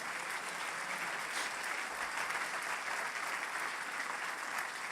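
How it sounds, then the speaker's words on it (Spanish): A Pentecostal church congregation applauds in a sustained, dense clatter of many hands, steady and fairly loud throughout, with no clear speech over it. "¿Cuántos le pueden dar un fuerte aplauso al Señor?"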